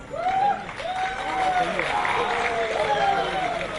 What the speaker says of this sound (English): So I request everyone to please extend a huge round of applause.